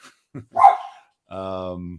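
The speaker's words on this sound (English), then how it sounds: "Can you hear that? I do. Those are the dogs. 2 Chihuahua mixes." Two Chihuahua mix dogs give a few short, sharp yips up close, followed by a sustained higher whine-like bark, with a voice heard briefly among them.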